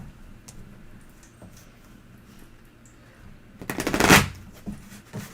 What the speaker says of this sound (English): Why don't you shuffle first, Mr. O, for our first reading